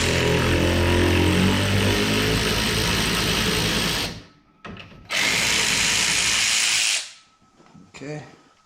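A power tool whirs loudly in two long bursts, loosening an 18 mm tie rod nut underneath a Polaris RZR XP 4 1000, with a short pause between runs and faint clatter after.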